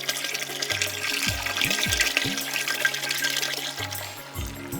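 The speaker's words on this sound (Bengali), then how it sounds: "পানি দেওয়া হচ্ছে বেশি করে।" Water is poured generously into a cooking pot of arum root and fish curry, giving a steady close pour with gurgling, splashing bursts throughout, alone without talk.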